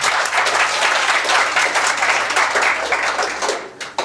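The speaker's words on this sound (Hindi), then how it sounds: "उनके लिए आप सबकी तरफ से जोरदार तालियां हो जाए" Applause from an audience at an annual school function, a dense, steady wash of many hands clapping that stays loud for about four seconds before tapering near the end.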